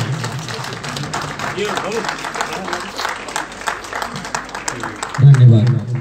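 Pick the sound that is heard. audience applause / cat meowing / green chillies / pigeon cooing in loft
audience applause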